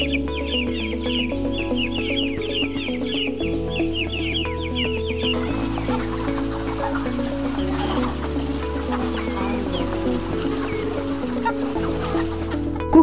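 Chickens at a poultry farm cluck and chatter continuously, many birds overlapping in a busy flock over a steady low background.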